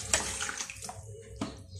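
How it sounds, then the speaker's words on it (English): Tap water runs steadily into a kitchen sink while potatoes are peeled, a soft continuous splashing stream at moderate distance, with a few brief louder splashes and no talking. "Am I the only one who peels potatoes with running water?"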